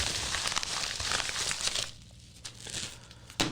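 A paper parts envelope crinkles and rustles close by as it is handled and opened, dense crumpling for the first two seconds, then quieter scattered paper sounds.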